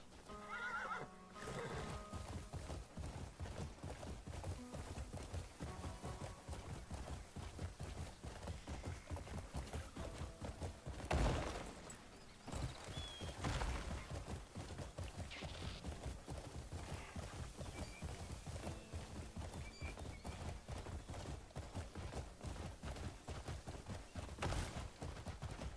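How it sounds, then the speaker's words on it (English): A legendary horse in the Crimson Desert video game gallops with steady, rapid hoofbeats under a dense game soundtrack, with a neigh rising briefly near the middle and another at the end. "Let's ride our legendary horse."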